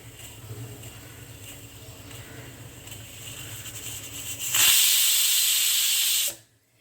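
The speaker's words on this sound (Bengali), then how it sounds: "কুকারটা গ্যাসে বসিয়ে দিলাম ফুল ফ্লেমে শুধু একটা সিটি উঠলেই বন্ধ করে দেবো" A pressure cooker on a gas stove at full flame lets out a loud, sharp whistle of escaping steam, preceded by a softer hiss and gurgle, then cutting off abruptly.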